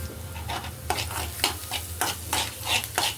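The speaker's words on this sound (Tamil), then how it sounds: "கருவேப்பிலையை போட்டு வதக்கணும்" Curry leaves sizzle steadily in a hot pan while a utensil scrapes and stirs in repeated strokes, close by with no talking.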